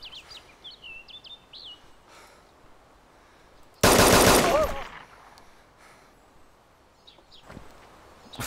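A burst of rapid automatic gunfire from a shooting in the video game DayZ, loud and sudden for about a second, set against quiet chirping birds in an outdoor game scene.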